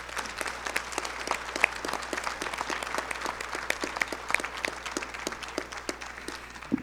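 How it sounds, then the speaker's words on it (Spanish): Sustained applause from an audience, dense overlapping claps at moderate distance, steady and even throughout with no talk. "un fuerte aplauso."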